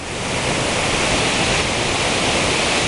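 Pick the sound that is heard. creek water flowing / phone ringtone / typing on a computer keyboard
creek water flowing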